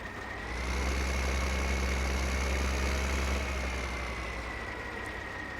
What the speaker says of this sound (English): Yeah, I guess we'll take this tractor.